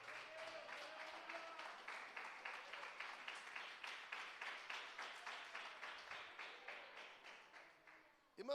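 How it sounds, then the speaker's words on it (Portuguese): A church congregation claps in a strong, rhythmic unison beat that keeps an even pulse for several seconds and fades near the end, heard somewhat distant in the hall. "dá uma chuva forte, palmas de glória a Deus."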